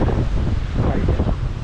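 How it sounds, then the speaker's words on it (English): Sea waves dash against stones on a shore, a steady broadband rush and surge mixed with wind buffeting the microphone, loud and continuous with no voices. "look at the waves dashing on the stones"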